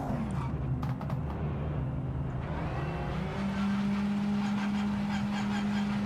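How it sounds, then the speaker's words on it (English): A GT3 race car engine in the Project Motor Racing sim revs and drones, its pitch shifting through gears before settling into a sustained steady tone, moderately loud with no voices. "the car sounds like a GT3 car, kind of, to some extent or another"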